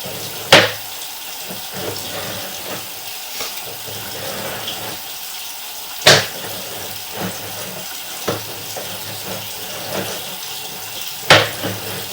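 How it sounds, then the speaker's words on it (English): Water runs steadily from a tap during a drain line check, a continuous hiss with a few sharp clicks or knocks over the flow and no talking. "Let's go ahead and shut the water off here"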